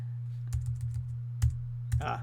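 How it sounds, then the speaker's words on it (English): Several short bursts of keystrokes on a computer keyboard, spaced apart over a steady low hum, with a brief cluster of clicks near the end; no talking. "My G key is not working on my keyboard"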